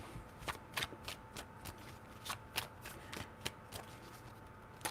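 A deck of tarot cards being shuffled by hand in quick, crisp riffling bursts, a dozen or so soft snaps spaced irregularly, close but quiet, with no speech.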